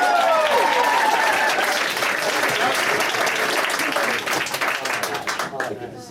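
Audience applause welcoming the starring guest at a live improv comedy show, a dense wash of clapping filling the room and gradually thinning toward the end.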